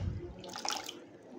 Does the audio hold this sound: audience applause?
no